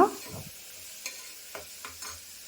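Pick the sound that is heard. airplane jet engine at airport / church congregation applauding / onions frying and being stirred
onions frying and being stirred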